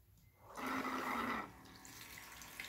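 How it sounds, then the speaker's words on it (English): Water gushes from a tap in a minivan's built-in kitchen, a fairly loud steady splash lasting about a second before cutting off to quiet room noise. "Running water."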